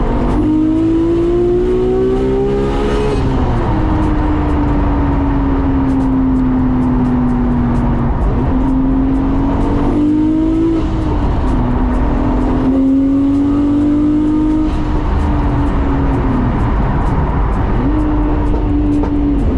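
Nissan R34 Skyline GTR with a new, more efficient turbo setup pulls hard onto a motorway, engine note climbing through repeated gear changes, loud and close throughout; backfire pops are not clearly distinguishable under the steady engine roar.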